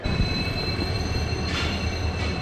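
A train pulls into Sujangarh railway station, a steady rolling rumble with high-pitched wheel squeal rising briefly midway, heard up close.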